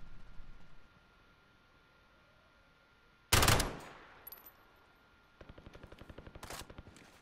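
Gunfire in Call of Duty: Modern Warfare, a loud broadband blast followed by a decaying tail, then a rapid automatic burst of evenly spaced shots toward the end, over a quiet background.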